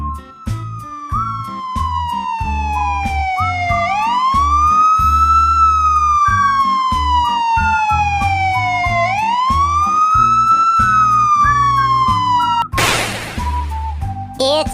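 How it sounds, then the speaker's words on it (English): A loud police siren wails up and down in long sweeping cycles, close by, ending with a short burst of noise and a brief yelp. "It's a police car."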